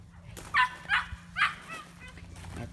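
Young puppies of a litter on a farm give three or four short, high yips and barks in quick succession, fairly close, over a low steady background hum.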